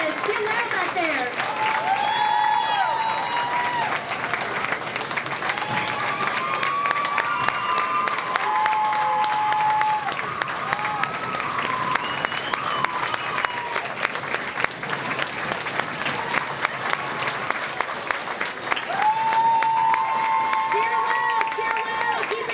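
Large school assembly crowd at a Locks of Love event clapping and cheering continuously for over twenty seconds, a loud sustained roar of applause with whoops and shouted voices rising above it.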